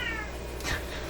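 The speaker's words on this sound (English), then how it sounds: "My cat is just calling me like crazy." A house cat meows loudly, a single rising call close by over a steady background hum, in a home where a 1970s clock radio is being restored.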